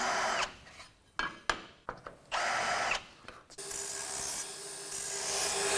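Metal plates being deburred with a power tool while building a roll cage for an IS600, heard in close, loud bursts broken by short pauses, then a steadier grinding rasp toward the end.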